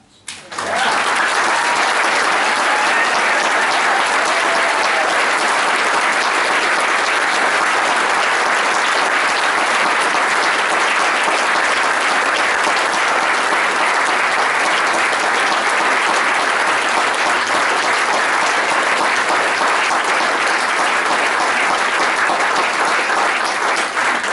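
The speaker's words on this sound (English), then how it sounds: "the interactive part is a hearty applause for Will and the Pattens" Mourners at William Charles Patten's memorial service break into loud, sustained applause for Will and the Pattens, a steady wall of many hands that starts abruptly and holds evenly for over twenty seconds.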